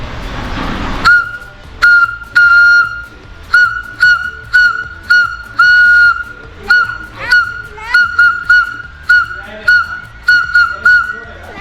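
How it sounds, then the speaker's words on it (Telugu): A whistle blown through a small pipe gives a loud, shrill, steady tone in a long run of short and longer toots with gaps between them, close by and alone. "ఒక చిన్న పైపుతోని చూడండి ఎంత విజిల్ వస్తుందో"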